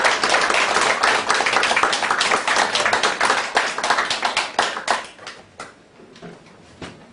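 A church congregation claps together in a loud, dense burst that thins into scattered, separate claps and trails away near the end.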